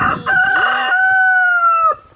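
A rooster crows once, close and loud, a long drawn-out call that rises and holds before cutting off, with no talking.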